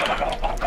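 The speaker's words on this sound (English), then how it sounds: "And chickens!" Chickens cluck briefly in the video game Minecraft, a short, close burst of soft clucks against a steady background.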